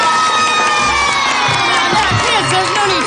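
A crowd of children cheer and shout excitedly together, loud and close, with high whoops and overlapping voices forming a continuous roar throughout.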